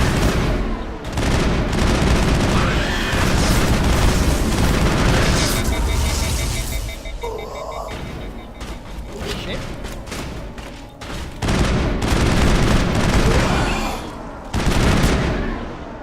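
Gunfire rattles almost continuously through a Mass Effect firefight, loud and close, with booms and short bursts and mechanical clatter. A voice talks over parts of it.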